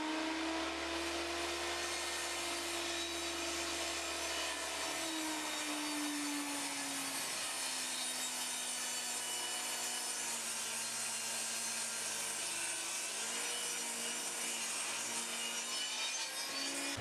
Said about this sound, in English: And now I can go ahead and joint this edge.